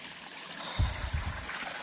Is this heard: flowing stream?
yes